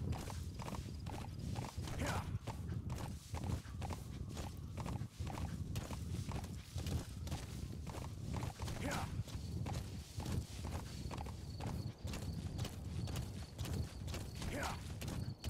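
Horse hooves clip-clop at a steady walking rhythm in Metal Gear Solid V, close and even throughout, with faint creaks and occasional brief speech-like sounds in the game.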